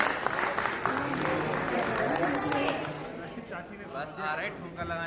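Guests at a tilak and sangeet ceremony clap loudly for the aunt, a dense burst that fades after about three seconds as voices and chatter take over.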